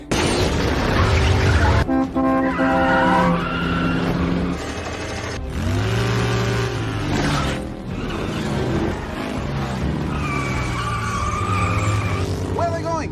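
Dom's car in a Fast and Furious 8 street race as he fires its nitrous, the engine surging through rising revs with tire squeals and screeches layered over a dramatic film soundtrack.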